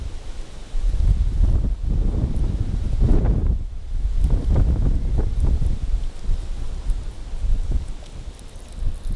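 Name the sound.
strong wind on a river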